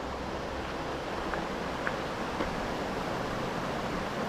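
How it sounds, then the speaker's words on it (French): Water from the stream La Sourette flows below a lakeside viewpoint, heard as a steady, broad rushing wash that stays even and continuous throughout with no voices. "on est, si tout va bien, si on se reconnaît bien avec Philippe et Gisèle, au-dessus du ruisseau La Sourette"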